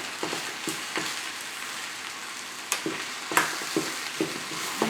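Mashed potato with curry powder stirred in a frying pan, with a soft steady sizzle beneath and a series of scraping, thudding stir strokes at an uneven rhythm.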